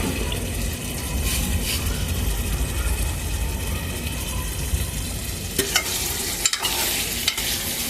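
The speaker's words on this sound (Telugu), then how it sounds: "కొంచెం ఇలా నూనెలో ఏగితే బాగుంటాయి ఫ్రెండ్స్" Sea fish fry and get stirred in oil with a steady, dense sizzle, broken near the end by a few sharp clanks and scraping stirs.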